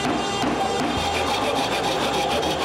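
A saw cuts away the excess of a glued walnut plug on a turned wooden potpourri box, a steady close rasping stroke that runs continuously, with no speech.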